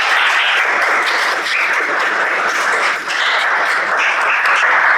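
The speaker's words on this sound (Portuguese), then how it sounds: "palmas para o nosso amigo Rinalme Emiliano." Sustained applause from a crowd, steady and dense clapping filling the whole stretch with no voices over it.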